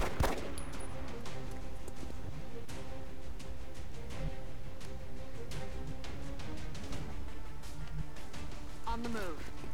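Gunfire bursts from the strategy video game XCOM: Enemy Within ring out in sharp repeated cracks over a constant game soundtrack, with a voice talking across the whole stretch.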